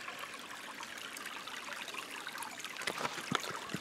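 A creek along a rough trail in Red River Gorge trickles and gurgles steadily, faint and continuous, with a few brief louder splashes near the end.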